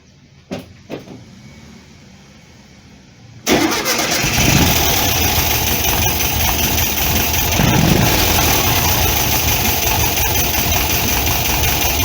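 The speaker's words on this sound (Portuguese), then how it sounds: "Olha o funcionamento da marcha lenta como ficou. Suave, uniforme." A VW Brasília 1600 with dual Solex 32 PDSI carburettors idles after a few faint clicks and a short quiet gap, settling into a loud, steady, even engine hum that runs without a break.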